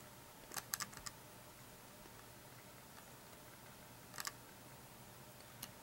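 Typing on the keyboard of an IBM ThinkPad R51 laptop: a few short bursts of quiet key clicks, spaced out over a steady low hum, close and faint.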